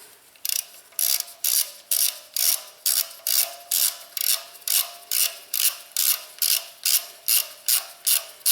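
A hand ratchet drives in the brake rotor retaining screw on a Volvo S90 rear brake, giving a steady run of about fifteen close, even clicking bursts with no talk.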